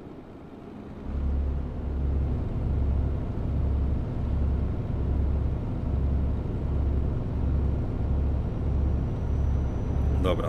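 Truck engine droning steadily in Euro Truck Simulator 2, a low rumble with a repeating pulsing hum, continuous and fairly loud after a brief quiet start, with a short clatter at the very end.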